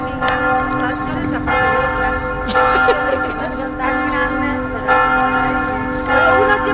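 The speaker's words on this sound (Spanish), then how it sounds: "con las campanas no se escucha lo que da" Church bells in Ripoll ring loudly and continuously, overlapping strikes with long ringing tones that swell every second or so.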